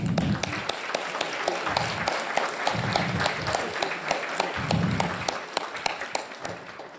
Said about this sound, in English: Give this lady a round of applause.